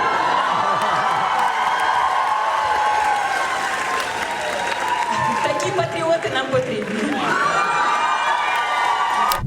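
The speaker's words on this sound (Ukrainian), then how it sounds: "Після цього зал вибухнув оплесками" A concert hall audience breaks into loud, sustained applause mixed with cheering and whoops after a Ukrainian song, the dense clapping steady from start to finish with voices shouting over it.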